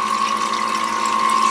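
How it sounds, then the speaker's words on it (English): Water runs into the tray of a Kodak 16K color print processor. It makes a steady, close rush with a constant machine hum underneath and no pauses. "Get some water running."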